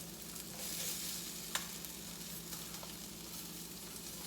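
Egg-free salmon croquettes sizzle steadily in a hot skillet while they are turned over, with one sharp scrape or tap partway through and a few fainter clicks, and no talking.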